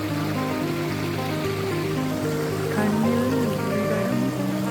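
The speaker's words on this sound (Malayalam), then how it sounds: "ഇതാണ് അതിന്റെ വാട്ടർഫാൾസ്." Meenvallam waterfall in Palakkad pours steadily, a continuous even rush of water with no pauses and no voices.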